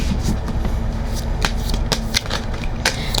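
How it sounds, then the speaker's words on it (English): Tarot cards being shuffled and drawn by hand, a close, steady papery riffle with crisp flicks and slaps scattered throughout. "I'm going to get couple more cards for you guys."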